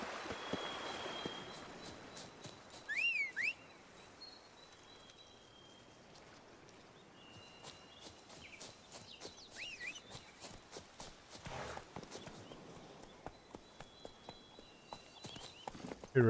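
Roach the horse in The Witcher 3 video game, hooves clip-clopping in a rapid, even gallop rhythm, moderately close, with faint ambient rain-like patter and a few bird or creature calls in the background.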